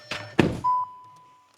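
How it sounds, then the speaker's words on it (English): A dull thunk of a Volkswagen Karoq car door shutting, followed by a steady electronic warning tone that holds for about a second and fades. "close the door and another beep goes off."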